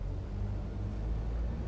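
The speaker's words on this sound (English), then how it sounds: "you can see the engines are firing out and going" A train engine in the video game Satisfactory runs with a steady, loud low rumble and drone that holds evenly throughout, with no voices over it.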